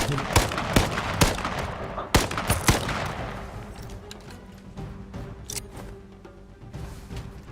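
A rapid burst of loud, sharp gunshots in the game H1Z1 opens, then scattered shots and a low engine hum continue more faintly.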